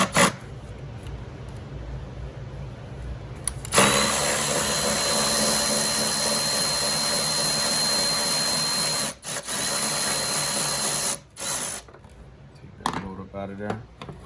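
A power wrench works a 13 mm bolt on the transmission mount of a 2012 Dodge Grand Caravan, a loud sustained whir with short stop-start bursts afterward, with voices at times.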